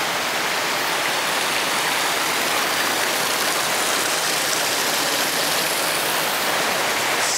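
Indoor river walk at the Gaylord Texan resort, a continuous broad rush of flowing, splashing water at steady loudness, with no breaks and no talking.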